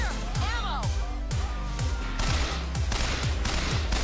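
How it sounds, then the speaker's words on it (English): Machine gun fire in the Bioshock Infinite game, a fast, regular stream of loud shots heard over music, with a man's exclamation near the start. "Oh, machine gun."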